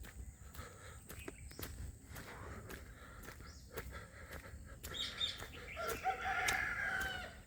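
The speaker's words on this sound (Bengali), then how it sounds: "মুরগি ডাকছে।" A chicken crows at Jhilli bird sanctuary in Jhargram, the call rising clearly near the end over a quiet outdoor background with scattered footsteps and faint clucks.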